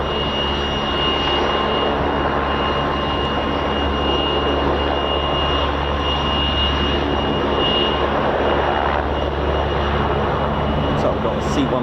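Airbus A400M military transport during a flying display at RAF Fairford's air show, a continuous heavy engine drone with steady tonal hum layered over broadband noise, sustained and fairly loud, with people talking over it.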